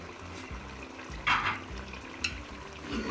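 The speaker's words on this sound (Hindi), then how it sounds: "अच्छे से भून लेते हैं।" Ground cumin frying in about one and a half ladles of oil in a pan for chicken karahi: a soft steady sizzle with scraping stirs and a couple of brighter clinks, no voices.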